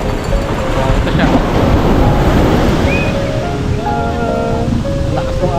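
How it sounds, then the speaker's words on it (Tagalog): A constant heavy roar of crashing surf on Abagatanen Beach in Agno, Pangasinan, with wind buffeting the microphone and faint voices in the background. "Lakas ng alon."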